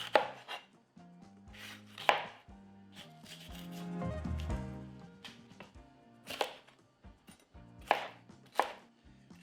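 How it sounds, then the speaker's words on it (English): A knife slices a yellow bell pepper into large pieces on a cutting board, making brisk, close chopping knocks in uneven bursts, with a soft rubbing stretch in the middle and no talking. "Now cut it into fairly large size."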